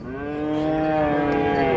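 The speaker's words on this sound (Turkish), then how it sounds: "40 tane yiğit inek var" Cattle at the Çorum livestock market moo in a long, loud, sustained low call that swells slightly and holds steady for nearly two seconds, close to the recorder with no talk over it.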